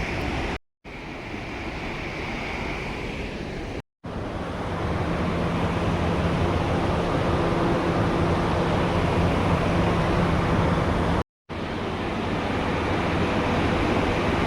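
The Gauri Ganga river rushes below a hydropower dam in the Himalaya, a loud, steady broadband roar of flowing water with wind buffeting, broken by a few brief dropouts.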